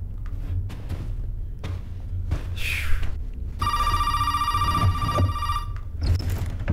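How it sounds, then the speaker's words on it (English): An old-style telephone bell rings in the horror video game Resident Evil 7, one sustained electric ring in the middle, amid dull thumps and footsteps before and after. "We got a phone call."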